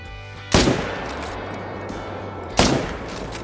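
Two loud, sharp hunting rifle shots in Call of the Wild while stalking a bull moose, about two seconds apart, each with a sudden crack and a short decaying tail.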